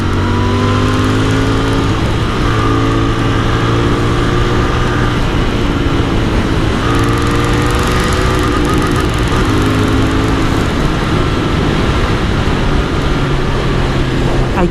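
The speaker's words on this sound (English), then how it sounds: "I keep hitting the limiter on this bike" A Royal Enfield Continental GT 650 parallel-twin engine runs hard and loud throughout, holding high revs and bouncing off the rev limiter with brief dips between gears.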